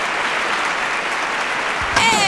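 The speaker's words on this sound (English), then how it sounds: "Did you hit her with a round of applause? Make it louder" Studio audience applause on a radio show, a steady wash of clapping that runs for about two seconds before a voice cuts in over it at the end.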